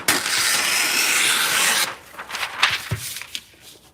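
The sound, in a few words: sharpening pruners at a sharpening station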